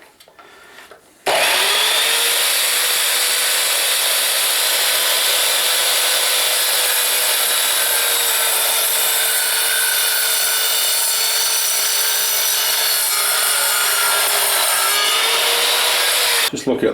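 An Evolution R210CMS mitre saw slices through hefty aluminium tubing in one loud, sustained, high-pitched cut lasting about fifteen seconds, starting sharply after a quiet moment and ending abruptly.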